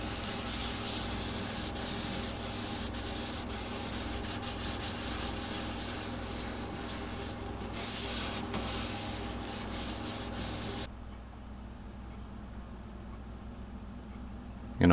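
Danish oil being rubbed by hand into guitar wood, a continuous close scrubbing and rubbing sound with steady strokes that stops near the end, leaving quieter background.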